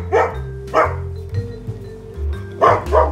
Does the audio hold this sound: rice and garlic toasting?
no